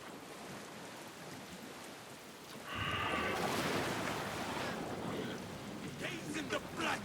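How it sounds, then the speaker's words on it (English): Soft background hiss gives way to a steady wash of rain in the video game Alan Wake 2 that grows louder partway through, with a few tonal chimes layered in. "We got more rain."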